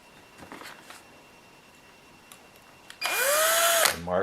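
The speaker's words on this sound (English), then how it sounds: "make a little mark here and then drill through" Power drill boring through the plastic of a 1/14 Tamiya Grand Hauler truck body for a headlight bulb, starting after a stretch of faint handling noise and spinning up loudly for about a second before cutting off.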